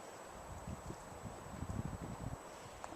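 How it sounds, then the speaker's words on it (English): Wind gusting at a lakeside on a January day at Whiskeytown, a steady low rumble of buffeting against the microphone with rustling surges and no talk. "There's a lot of wind here today."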